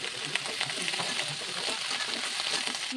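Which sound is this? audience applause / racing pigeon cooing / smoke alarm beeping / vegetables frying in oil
vegetables frying in oil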